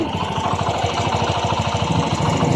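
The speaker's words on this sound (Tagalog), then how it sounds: "Maganda po ang tunog ng kanyang makina." A Yamaha STX 125 motorcycle engine runs steadily up close, its loud rapid chugging pulse and mechanical rattle continuing without a break.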